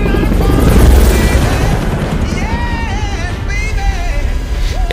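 Helicopter rotor thumping in the Saints Row 4 video game, a loud near drone over bursts of gunfire and booms, with synthetic whooshing tones and a voice talking beneath.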